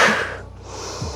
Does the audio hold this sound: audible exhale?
yes